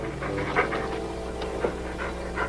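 Heavy, close panting from a lion just behind a person in a vintage Abbott and Costello comedy set in Africa, a steady rasping rhythm of quick breaths with no talk over it.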